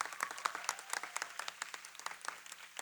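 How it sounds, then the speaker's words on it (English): An audience claps at a Rangapravesam dance debut, with a steady patter of individual handclaps that sounds fairly faint and distant and continues throughout. "Let's give a round of applause"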